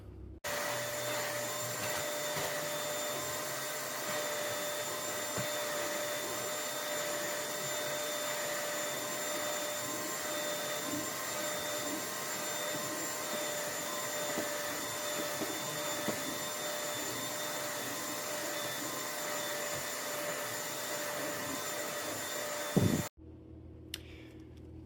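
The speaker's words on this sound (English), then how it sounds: "put your carpet wand back on the machine and do some dry passes. So you're just scrubbing the carpet with the vacuum on, no water." A carpet cleaning machine's vacuum wand roars steadily during dry passes over carpet with no water, a loud constant whine with faint scrubbing texture, cutting off abruptly near the end.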